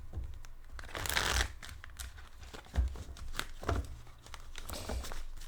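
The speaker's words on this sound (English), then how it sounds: "This is so much better when I'm shuffling on camera." Tarot cards being shuffled by hand, repeated riffling bursts of papery flutter and soft slaps, close and fairly loud, with no voice over them.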